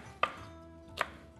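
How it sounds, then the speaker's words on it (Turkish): Two crisp knife chops through spinach on a cutting board, about a second apart, close and clear against a quiet kitchen background. "Ispanağımız güzelce bir doğramış olalım."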